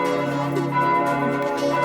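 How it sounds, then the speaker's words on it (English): Church bells ring at noon in Salzburg, a dense layered peal of sustained tones with continuous overlapping strikes, loud and steady throughout, with no talking. "I actually like church bells, I don't mind them, but it's just they go on for quite a bit on noon."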